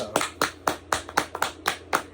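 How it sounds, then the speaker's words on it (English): A person claps their hands in a quick, even rhythm, about eight sharp close claps over two seconds with no talking. "I gotta clap at myself."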